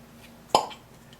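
A single short, sharp pop as a Pop Chef carving cutter is twisted into place, standing alone against a quiet background.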